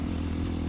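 Steady, loud motorcycle engine drone from a 250cc dual-sport or trail bike pushed at full throttle up a steep dirt climb, a continuous low rumble with no pause.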